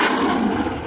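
A steady, broad engine roar of an aircraft passing overhead, fairly loud and continuous, with no voices.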